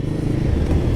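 Royal Enfield Guerrilla 450 motorcycle engine idling or running steadily nearby, a continuous low rumble with a rough, slightly clattering texture and no talk.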